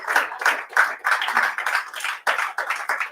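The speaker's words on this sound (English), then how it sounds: "Please give my team a round of applause." A small audience at a sales presentation claps in uneven bursts, individual hand claps distinct and close, the rhythm ragged with brief dips and one short gap partway through.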